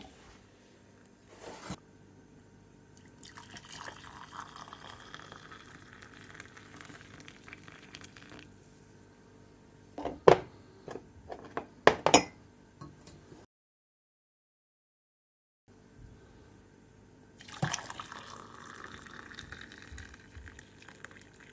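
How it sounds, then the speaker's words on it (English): A pot of water for avocado leaf tea simmers over a fire, with a low, faint bubbling hiss, a few sharp clinks and knocks, and a brief stretch of silence in the middle. "It's boiling, and I'll just let it boil and simmer for about 10 minutes."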